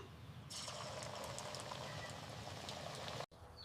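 Vegetable pakora balls in gram-flour and chopped-chilli batter dropped into hot oil: a steady, broad frying sizzle that begins abruptly and continues evenly, then breaks off briefly before resuming, with no voices.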